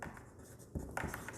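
A pen scratches short, quick strokes while writing on a paper astrology birth chart. The scratching is faint and close.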